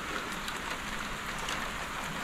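Heavy rain pours down steadily, a dense, continuous hiss of drops striking surfaces nearby with no pauses and no voices.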